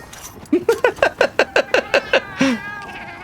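A cartoonish cat companion in the video game Monster Hunter Wilds lets out a rapid string of about ten short, bright meows in quick rhythm, ending with one longer drawn-out meow, close and clear.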